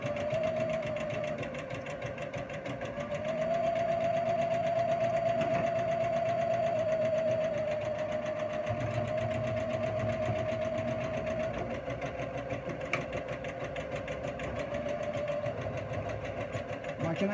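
A Janome MC200e computerized embroidery machine stitches lettering, its needle chattering in a steady, fast mechanical rhythm with a constant whirring hum; the sound is moderately loud and close, with no talking over it.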